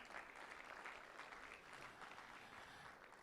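Applause from the assembled audience for the College of Health Sciences lecturers at the University of Abuja, a continuous, even patter of many hands heard at a moderate distance, holding steady for a few seconds without speech.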